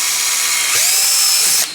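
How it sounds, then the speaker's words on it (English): A power drill whines steadily while boring a pilot hole in a Jeep Gladiator, loud and close, its pitch bending briefly as the bit bites before it winds down. "let's go ahead, get our hole drilled through"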